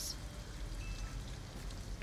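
Steady rain falls in the video game Detroit: Become Human, a continuous hiss of drops on surfaces with a few faint brief chirps, and no talking.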